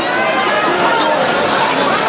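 Dense, continuous roar and babble of a large crowd at a boxing arena during the Pacquiao vs Mayweather fight, loud and sustained without a break.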